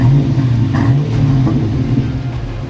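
A Land Rover Defender 90's 6.2 litre V8 fires up and settles into a steady, deep idle, with a brief rise in revs near the start and then an even rumble that stays loud and close for the length of the clip.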